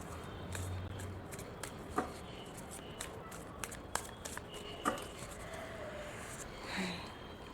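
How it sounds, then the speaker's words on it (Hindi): Tarot cards being shuffled and drawn from a deck make quiet papery rustles, scattered soft taps and flicks, all faint and close. "let me pull out some more cards."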